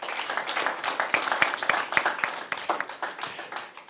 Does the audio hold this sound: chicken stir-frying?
no